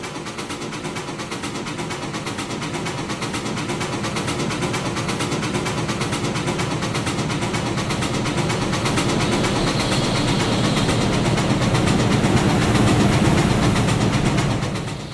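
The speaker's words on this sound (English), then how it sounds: "rail fans have taken position on the highway overpass to see the train roll by" A train rolling by on the line in the Trainz simulator game, a continuous heavy engine rumble with rhythmic rail clatter that swells gradually over about fifteen seconds, then cuts off sharply.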